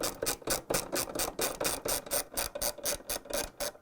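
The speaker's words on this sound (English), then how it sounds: "And now we're going to put 3 bolts to secure the transmission. 1/2-inch socket wrench." A 1/2-inch socket wrench ratchets bolts securing the transmission on a Whirlpool washer gear case, a fast, even run of close clicking strokes repeating without pause, no talking.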